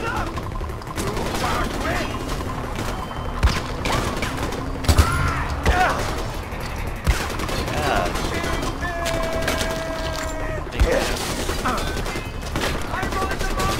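Gunfire in a first-person shooter game, rapid bursts and single shots over continuous battle noise and mechanical clatter, with occasional voices under the action.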